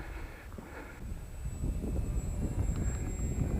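A converted Lidl RC biplane's electric motor drones and whines in gusty outdoor air, heavy low wind buffeting swelling over it as the flight continues, with a thin steady high tone running throughout.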